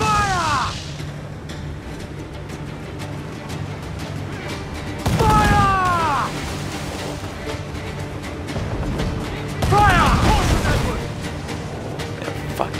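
Ship cannons booming in Assassin's Creed 4: Black Flag during a naval battle: a couple of heavy volleys crash out several seconds apart over the roar of wind and sea, with shouted voices talking throughout.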